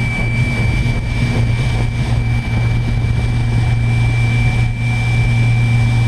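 Electric vehicle motor running steadily at about 3,400 RPM at roughly 140 amps, a continuous loud hum with a strong low drone and a thin high whine throughout, no pauses.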